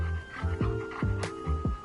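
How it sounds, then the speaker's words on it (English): A dog panting in the video game Mato Anomalies as it is petted, several quick rhythmic breathy pants alongside soft game ambience, close and fairly clear. "I can pet the dog."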